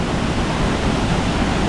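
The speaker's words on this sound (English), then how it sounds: "That's a powerful waterfall right there. This is the Lowell Creek Waterfall." Lowell Creek Waterfall near Seward pours down in a loud, steady, broadband rush of water, heard close and continuous with no voices.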